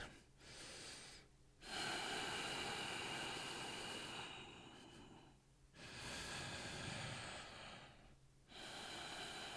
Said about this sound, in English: Deep inhale. Full exhale.